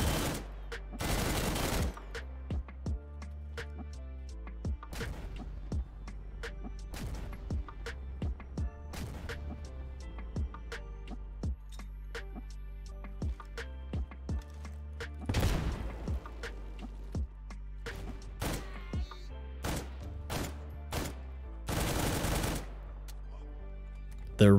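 Gunfire rings out in the shooter STALKER modded with Hollywood FX: sharp single shots and short automatic bursts crack at irregular intervals over a quiet background, with a few louder, heavier blasts.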